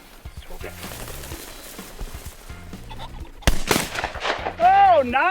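Shotgun blast fired at a running rooster pheasant during an upland hunt in Utah, a sharp loud bang near the middle followed by bird flapping and squawking, with hunters talking throughout.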